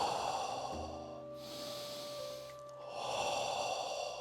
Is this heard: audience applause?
no